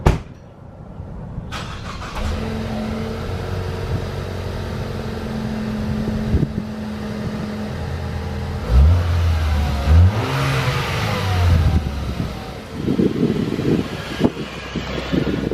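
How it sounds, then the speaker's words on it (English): A Ford Fusion engine fires up from a cold start and idles with a steady mid-pitched hum, then revs up and down several times in rising and falling sweeps, loud and close, with no talking. "we're gonna do something that I've never done before, and that is a cold start in the Ford Fusion"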